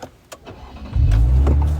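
Sports car engine effect for a live-stream gift, a rumbling start that rises into a loud, sustained low roar after a few faint clicks.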